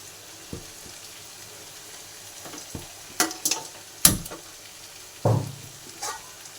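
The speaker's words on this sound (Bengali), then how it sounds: "সজনে পাতাটা আমি হালকা একটু জল দিয়ে সেদ্ধ করে নেব" Drumstick leaves cooking in a pan with a little water make a soft, steady simmering hiss, broken by several sharp clinks and scrapes of stirring.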